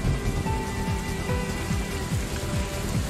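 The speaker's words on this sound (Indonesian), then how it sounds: "Hujan?" Steady rain falls in a Minecraft animation, a dense, loud, even patter of drops on surfaces that continues unbroken with no voices.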